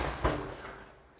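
A dryer door is pushed shut with a single short thump near the start, then the sound fades into quiet room noise.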